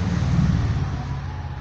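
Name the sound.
cars passing on a busy road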